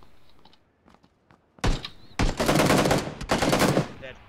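Bursts of automatic gunfire in PlayerUnknown's Battlegrounds: a short volley, then a longer sustained spray of close, loud shots with brief gaps, following a few quiet clicks and thuds.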